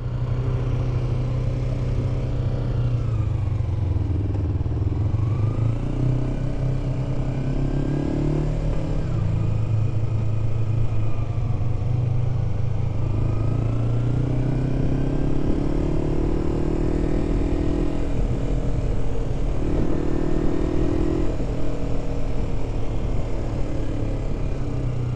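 A motorcycle rides through city streets, its engine rising and falling in pitch through several gear changes, heard steadily from the rider's position for a long stretch with no voices.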